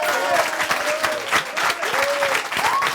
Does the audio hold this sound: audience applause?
yes